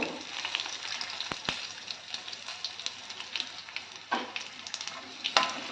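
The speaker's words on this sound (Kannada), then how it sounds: "ಸ್ವಲ್ಪ ಫ್ರೈ ಆಗಬೇಕು ಇವು ಚೂರು ಫ್ರೈ ಆಗಬೇಕು" Spices frying in a pan with asafoetida for a raw mango palya, a steady soft sizzle with a few sharp clicks of a spoon against the pan, moderately close and without talking.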